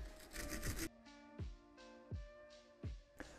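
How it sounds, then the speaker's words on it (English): Threads on a 2015 Audi A3 suspension strut being cleaned with a brush or rasp: a quiet series of about five short scraping strokes, evenly spaced, close up with no talk. "Next up, clean these threads up right here."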